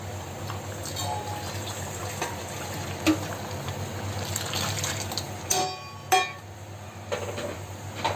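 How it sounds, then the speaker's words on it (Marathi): Water is poured into spicy dal in a cooking pot, a steady close liquid pour with a few clinks of the pot running through the clip. "तर मी त्याच्यामध्ये पाणी घालते."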